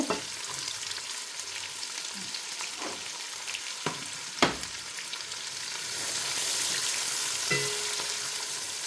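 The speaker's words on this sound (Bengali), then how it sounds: "এখানে পেঁয়াজ কুচি দিয়ে দিচ্ছি" Chopped onions fry in hot oil in a pan as the base for bhuna khichuri, a continuous close sizzle with a few sharp crackles and stirring scrapes, no talk.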